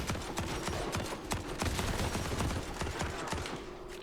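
Rapid automatic fire from a Viper gun in the Trident's Wake video game, a loud, steady stream of sharp shots lasting the whole stretch, with no talk over it.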